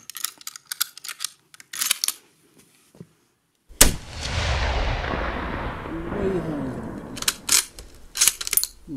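A single sharp, loud shot from a Soviet M44 Mosin Nagant carbine outdoors, followed by a long fading echo, with scattered clicks and handling noises before and after.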